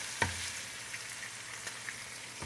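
Onion and pepper frying in oil for Jamaican-style pak choi with saltfish: a quiet, even sizzle with a sharp utensil knock near the start and a few faint ticks, nobody speaking.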